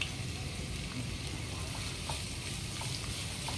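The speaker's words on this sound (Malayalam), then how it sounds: "ഒരു വെല്ലുള്ളി വന്നിട്ട് നമ്മൾ മീഡിയം സൈസിലുള്ളത് ഇങ്ങനെ ലോങ് ചോപ്പ് ചെയ്തിട്ട് നമുക്കിത് രണ്ട് മിനിറ്റ് ഫ്രൈ ചെയ്യാനിടാം" Sliced onions sizzle steadily in a hot pan, a dense, even frying crackle at close range with faint stirring scrapes and no voices.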